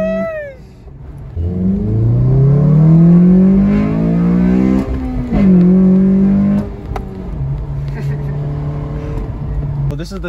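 A 2008 Honda Civic Si Mugen sedan accelerates hard, its engine note climbing steadily through the gears with a brief dip at a shift, loud and close, then settling to a steady hum as people talk over it.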